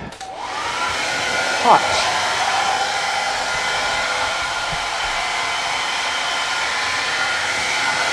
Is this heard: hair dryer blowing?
yes